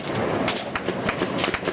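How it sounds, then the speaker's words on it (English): Gunfire and rocket-propelled grenades crack during a Taliban assault on an American outpost in Nuristan, Afghanistan, a rapid series of sharp reports and bangs packed close together. "Gunfire and rocket-propelled grenades set the outpost on fire."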